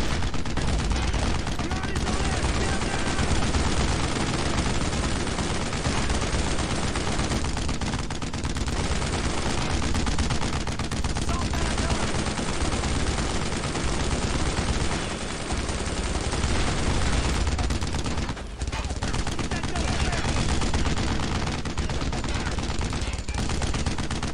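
Continuous dense gunfire and explosions from the World War II video game Brothers in Arms: Road to Hill 30 fill the scene, loud and relentless, with a voice faintly under the battle noise.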